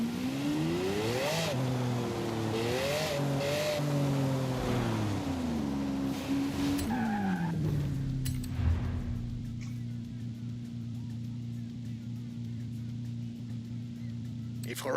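A Forza Horizon 5 car engine revs and winds through rising and falling pitch sweeps while drifting, then settles into a steady drone with faint interface blips, close and continuous.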